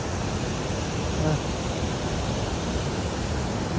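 Steady broadband rush of river water flowing down from Gira waterfall in the Dang forest, Gujarat, at lower than usual volume, constant and fairly loud, with no breaks or distinct splashes standing out.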